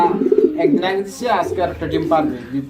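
Bombay pigeons, including a female sitting on eggs, coo softly and repeatedly close by as people talk over them.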